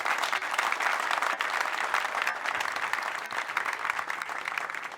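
Dense, steady applause from a large crowd at a political youth rally in Libreville, Gabon, filling the whole stretch evenly without pause, loud and close.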